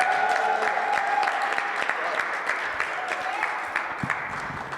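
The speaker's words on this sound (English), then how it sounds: "Give a round of applause." Steady audience applause at a Black History Month flag raising, a dense, even patter of many hands at moderate distance, with faint voices underneath.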